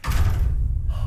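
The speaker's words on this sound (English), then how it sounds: "Why'd you close the door?" A door closes with a heavy low thud inside a room of an old hotel, loud and close, followed by a short fading rumble and no voices.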